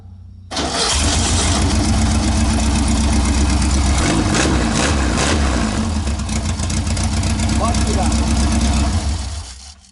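A Volkswagen Beetle (Fusca) engine, running without its muffler, catches after a quick crank and keeps running at a loud, rough, close idle for about nine seconds before cutting off.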